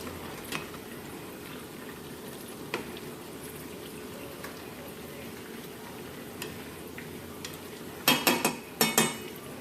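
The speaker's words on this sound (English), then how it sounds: "Okay, just kind of stirring it in." Food simmers softly in a pan while a utensil stirs it for a seafood dish, a low steady bubbling hiss with faint scrapes, then a few brisk metallic clinks near the end.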